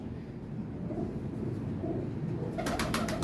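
A female teddy breed pigeon gives soft, low, rounded coos, repeated several times over a steady background hum, with a brief rattling clatter near the end.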